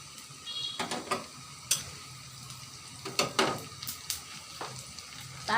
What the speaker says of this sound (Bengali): এখানে আমি দিয়ে দেবো 1 চিমটি জিরা ফোড়ন।